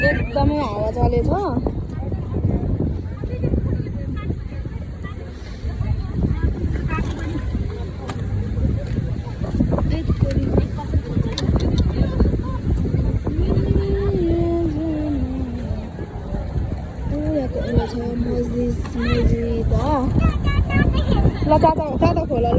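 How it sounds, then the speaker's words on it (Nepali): Strong wind sweeps a seaside corniche on a cold evening, buffeting the microphone as a low, rumbling roar under near-continuous conversation. "एकदमै हावा चलेछ"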